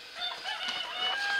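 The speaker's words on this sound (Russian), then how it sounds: "Петух." A rooster crows in one continuous call, loud and near, with a rising and wavering tone and no talking.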